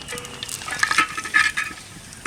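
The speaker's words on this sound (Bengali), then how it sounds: "হাঁড়ির মধ্যে তেল গরম হয়ে গেছে।" Bay leaves tempering in hot oil in a clay pot for a chicken curry with sour yogurt, a moderate crackling sizzle with scattered pops and stirring scrapes, close and without voices.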